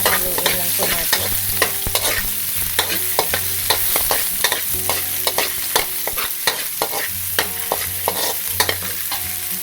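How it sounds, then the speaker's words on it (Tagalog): Ginger is stirred into browned garlic frying in a pan: a steady sizzle punctuated by regular sharp scrapes and clinks of a spatula, close and fairly loud with no talking. "ay isusunod na natin ang ating luya. Tapos hahaluin lang po natin."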